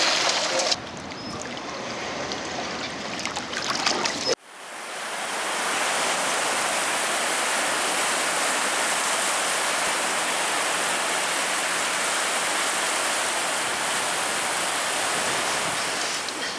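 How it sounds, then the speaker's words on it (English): A piece of 17th century Bellarmine stoneware is rinsed in the River Thames. Brief rustling opens the sound, then a loud, steady rush of pouring, splashing water runs on alone and close. "giving it a rinse off now"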